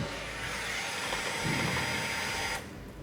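A steady mechanical whir and rattle of a running Ducati V4 SP2 motorcycle engine heard up close near the engine, continuous and fairly loud, dropping slightly in level near the end.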